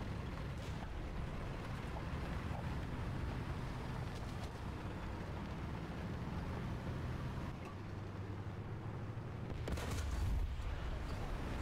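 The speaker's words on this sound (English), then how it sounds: "I hear an engine to my left" Engine of an enemy tank in a tank combat video game on the Carpathians map, a steady low rumbling drone blended into dense, continuous battle noise, with a louder burst near the end.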